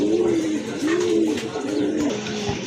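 Rajgolla pigeons coo in a repeated rolling pattern, close and clear, about three or four calls over a steady background hum, with no voices.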